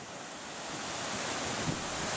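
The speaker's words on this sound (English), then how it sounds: "Kind of wanted to get a little bit closer to the edge here to show the waves" Ocean waves surge and wash against sharp, jagged rock near a blowhole at Washington Slagbaai National Park, a steady broadband roar mixed with wind buffeting the microphone.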